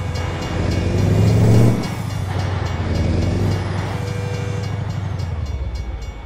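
Air horn of a Mack Superliner truck in American Truck Simulator, a loud sustained low blast that swells and then holds steady over the rumbling engine, with no talking.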